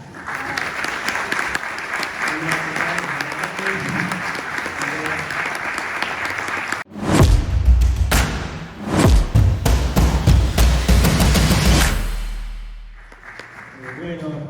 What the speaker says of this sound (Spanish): brindémosles un gran aplauso al doctor Diego Escolar